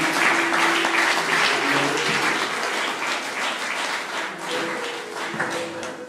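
A church congregation applauds and cheers to acclaim the Lord during a French-language worship service, a dense, sustained wash of clapping that holds steady throughout with some voices mixed in.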